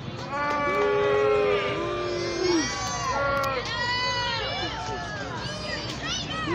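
A wrestling crowd in Jacksonville jeers and chants at a wrestler, a loud sustained mass of voices with rising and falling boos and taunting cries, while a performer talks over the noise.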